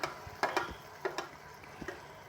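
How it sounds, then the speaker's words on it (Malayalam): Turmeric, green chili and ginger-garlic paste stirred in a pan for chicken stew, heard as a few quiet spoon scrapes and taps over a faint low sizzle, close and brief. "മഞ്ഞൾപ്പൊടി, പച്ചമുളക്, ഇഞ്ചി വെളുത്തുള്ളി പേസ്റ്റ് ചേർത്ത് നന്നായിട്ട് ഇളക്കുക"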